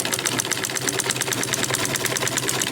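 A sewing machine stitches around a tote bag lining, its rapid, even needle clatter running continuously and close up, loud and steady without pause.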